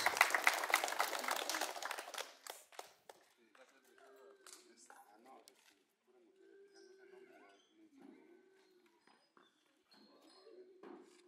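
Applause for students at a school event where a group donates backpacks to children: a burst of loud clapping that fades into sparse claps and quiet voices.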